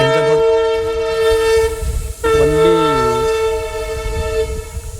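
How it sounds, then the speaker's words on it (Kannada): A locomotive horn from a light engine with no coaches blares loudly and close in a long sustained, rich tonal blast, briefly dipping and bending in pitch before resuming over a low rumbling background. "ಟ್ರೈನಿನ ಹಾರ್ನ್ ಮುಂದೆ ಯಾವ ಹಾರ್ನು ಇಲ್ಲ ನೋಡಿ, ಎಲ್ಲ ಹಾರ್ನ್ ಫೇಲ್ ಆಕ್ಕಾವ. ಬರೀ ಇಂಜನ್ ಅದ, ಟ್ರೈನ್ ಅಲ್ಲ."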